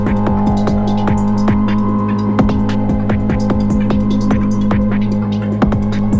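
A synthesizer patched through a Buchla 256e control voltage processor, its inversion used for auto panning, drones steadily with layered harmonics and a regular throbbing pulse, loud and unbroken throughout.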